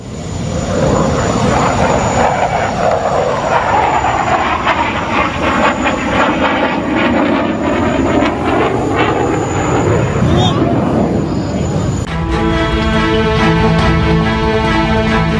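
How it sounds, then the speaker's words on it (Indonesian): An Indian Tejas military fighter jet performing at the Dubai Air Show produces a loud, continuous roar for about twelve seconds with voices mixed in, before cutting abruptly to a different steady tone. "Sebuah pesawat militer terjatuh di acara Dubai Air Show di Dubai, Uni Emirat Arab."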